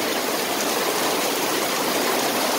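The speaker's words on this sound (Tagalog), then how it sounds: "Bahang-baha. Ayan o. Ayan ang agos o." Floodwater from Typhoon Kristine's heavy rain rushes along a street in Mabuhay Golden City, a steady, loud, broadband roar of flowing water and rain with no voices.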